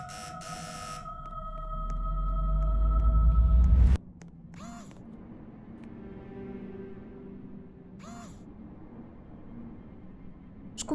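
A doorbell in a Roblox Brookhaven horror roleplay game gives two brief chimes a few seconds apart, after a steady droning hum cuts off abruptly, leaving a quiet background.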